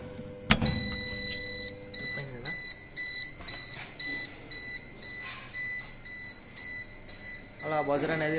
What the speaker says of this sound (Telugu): మనం వచ్చి బజర్ కమ్ ఇండికేటర్ ఉన్నది వాడాం